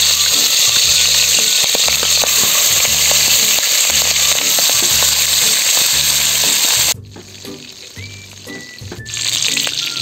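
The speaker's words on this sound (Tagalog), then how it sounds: "magpeprito na tayo" Salted milkfish (bangus) fries in hot oil with a loud, dense, continuous sizzle and crackle, dipping briefly quieter toward the end before swelling back up, with no voices.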